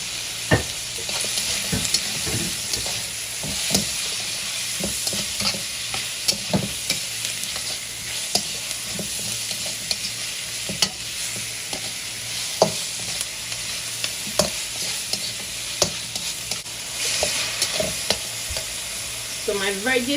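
Mushrooms and vegetables stir-frying for shrimp lo mein make a constant close hiss, broken by frequent clicks and scrapes of a utensil tossing them in the pan.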